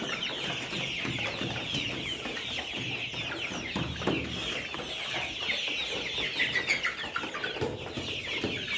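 Layer hens cluck steadily throughout a crowded winter poultry shed, many birds overlapping in a continuous busy chorus with occasional louder squawks and brief wing flaps, fairly close and without talk.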